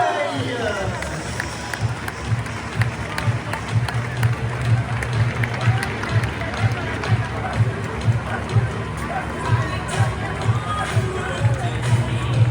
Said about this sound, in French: on va pouvoir l'applaudir